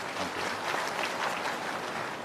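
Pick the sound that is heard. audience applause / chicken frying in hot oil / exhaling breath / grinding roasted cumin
audience applause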